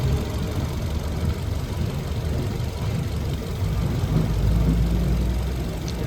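Maruti Dzire petrol-CNG engine idling with a cylinder 2 misfire, a steady, rough, close low rumble with an uneven shaking pulse throughout and no voices.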